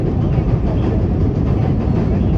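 Steady low rumbling of a train rolling along, a continuous dense roar with a faint rhythmic clatter throughout.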